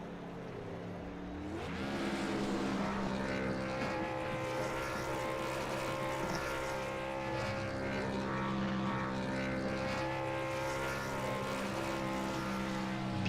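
A race car burnout in the iRacing game after an ARCA race at Las Vegas Motor Speedway, a sustained loud engine roar holding steady for over ten seconds after a quieter start, no talk.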